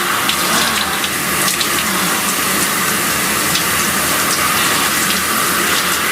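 Cold shower water runs in a steady, loud, continuous spray, a dense hiss with no breaks from start to finish.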